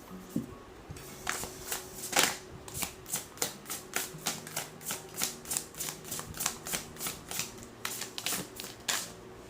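Oracle deck cards being shuffled in a quick, regular run of crisp riffling flicks, close and fairly quiet, with no talking.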